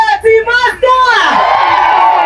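A crowd at a Kenyan party in Rongai cheers and shouts in a loud burst of whoops and yells. The sound swells into a sustained, close roar, with a few sharp voices rising above the rest at the start.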